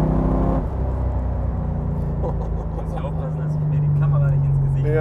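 A Subaru BRZ swapped to a 6-litre LS3 naturally aspirated V8 revs and pulls, its engine note rising in a long climbing tone near the end, under someone talking throughout.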